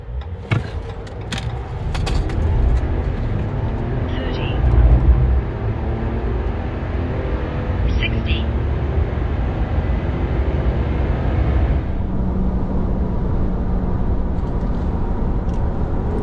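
A 2025 RAM 1500 Rebel Hurricane pickup accelerating hard toward 60 mph: a loud, steady low engine roar fills the whole stretch with no voices, its tone easing slightly late in the run.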